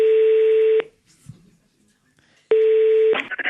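A telephone is dialed with a steady touch-tone beep, then a pause, then a second tone followed by brief rustling, all close and clear.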